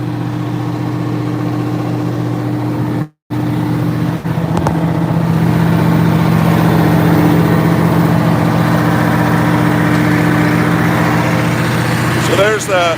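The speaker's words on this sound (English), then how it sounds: "So there's the V8 engine." International 4786 tractor with a V8 engine idling steadily, a low continuous drone heard close up through most of the span, with a brief dropout near the start and a door or handling clatter near the end.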